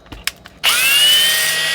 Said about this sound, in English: I just chucked this up in a drill, take some sanding cloth